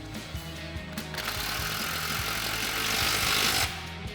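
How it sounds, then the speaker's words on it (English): An impact wrench with a 13 mm swivel socket and extension hammers a bolt tight on an aFe Mach Force-XP 3-inch cat-back exhaust fitted to a Dodge Challenger. A few light taps give way to a loud, steady rattling burst of about two and a half seconds, then it stops. "use our 13 mil swivel socket and extension on our impact to go ahead and tighten this down"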